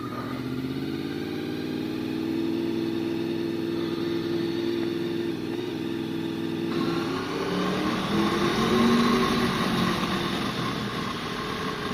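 Honda motorcycle engine idling on a cold morning around 9 degrees, a steady close drone that shifts slightly in pitch partway through as it warms up, with no voices.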